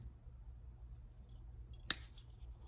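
A single crisp snip of cutters clipping through jewelry wire while making jump rings, one short click near the end of an otherwise quiet, low-humming stretch.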